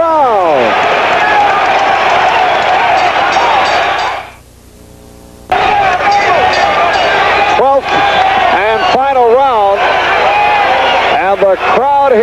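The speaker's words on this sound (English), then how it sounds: "The crowd here at Roberto Clemente Coliseum on its feet" Large boxing arena crowd of about 11,000 fans at Roberto Clemente Coliseum roaring in the 11th round of a title fight, loud and sustained, briefly dropping away then surging back, with a commentator's voice over the noise.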